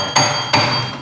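A mud motor coupling is tapped into place on a Mud Skipper boat motor with two sharp, close metallic knocks, each ringing briefly.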